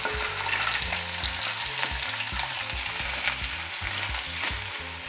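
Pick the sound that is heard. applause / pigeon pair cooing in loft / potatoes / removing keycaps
potatoes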